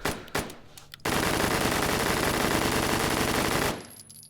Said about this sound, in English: we just got the Scorpion with a drum mag